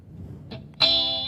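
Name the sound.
electric guitar through REVV G20 amp direct signal, 212 cab simulation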